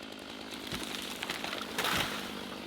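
A chainsaw drones steadily as it cuts a tree at moderate distance, with the pitch and load shifting as the cut bites.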